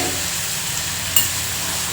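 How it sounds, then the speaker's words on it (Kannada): Spices and tomato sizzling in a couple of spoons of hot oil while a vegetable dish is tempered, a steady close hiss with one brief clink of a utensil and no talking. "ಪಲ್ಯ ಒಗ್ಗರಣೆ ಹಾಕ್ಕೊಳಕತ್ತೀನಿ ಸಿಂಪಲ್ಲಾಗಿ"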